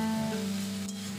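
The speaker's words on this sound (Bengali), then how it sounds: "পালং শাকগুলো দিয়ে দিলাম।" Spinach dropped into a hot pan, a continuous close sizzle with a low steady hum underneath and no talking.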